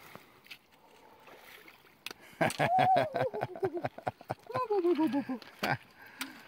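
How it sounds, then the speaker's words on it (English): Feet wade across a shallow, chilly river of about knee depth with a sandy bottom, giving rhythmic sloshing splashes that build into a quick run of steps and then trail off, with a voice briefly heard. "We've got to cross this river one more time."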